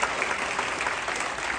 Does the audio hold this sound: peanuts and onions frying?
no